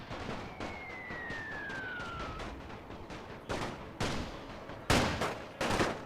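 Enemy gunfire in The Great War 6.0, mostly a steady backdrop of battle noise, then a handful of sharper, louder shots breaking through toward the end, with a thin whistling tone sliding downward early on.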